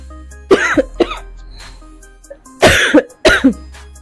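Several loud, close coughs, a pair early on and then two harsher bursts near the end, with quiet pauses between.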